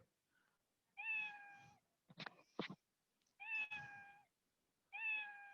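Three clear cat meows from a sound effect, spaced a couple of seconds apart, with a pair of sharp clicks in between, otherwise quiet.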